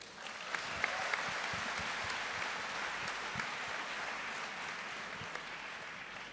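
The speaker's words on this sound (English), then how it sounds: "I think he deserves a bigger clap" An audience clapping steadily together, a dense sustained round of applause from a seated crowd at a talk event, fairly distant and even in level for several seconds with no voices over it.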